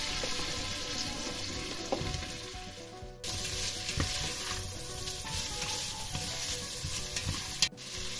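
Sausages and onion fry in butter in a pan for a Polish-style cooked cabbage dish, with a constant crackling sizzle, occasional stirring knocks and a short break in the middle.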